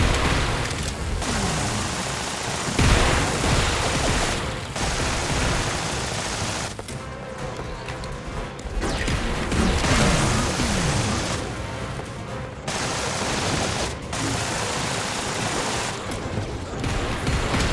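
Enemy robots shooting back in the tower defense game Fortified, dense bursts of rapid gunfire and booms that run almost continuously at a loud level, with brief drops between volleys.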